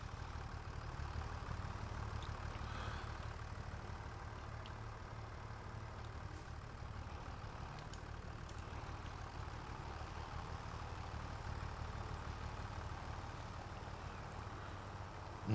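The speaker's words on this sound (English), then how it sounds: "Oops, I left my other tractor running." A tractor engine left running in the farming video game Farming Simulator 25 idles as a steady, low, droning hum that holds for the whole stretch with no voices.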